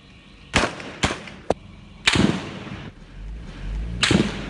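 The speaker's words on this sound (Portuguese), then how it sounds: "Nossa senhora, é um monte de tiro." Sharp gunshots and explosions during a bank robbery by a gang that blew up a building in Araçatuba, several loud separate bangs spaced over a few seconds, echoing across the town with a low rumble between them.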